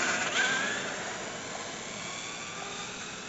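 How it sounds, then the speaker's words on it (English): A fast RC car on a 3S battery run drives at full throttle, giving a loud, steady high-pitched motor whine that fades slightly after the first half-second and then holds, with no talking. "I'm going to try and get to full throttle."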